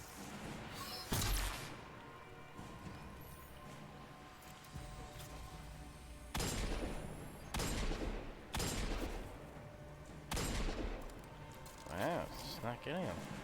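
Bursts of video game gunfire, sharp cracks and short rapid volleys scattered across the stretch, with quieter gaps between shots under a faint game backdrop.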